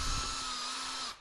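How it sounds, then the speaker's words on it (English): A power drill chucked onto a PrintNC CNC router's Y-axis ball screw spins it in one steady, loud, whirring burst that cuts off abruptly near the end. "or you can just chuck a drill on the end of this ball screw like that."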